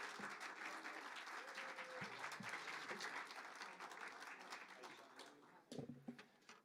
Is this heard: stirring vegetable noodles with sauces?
no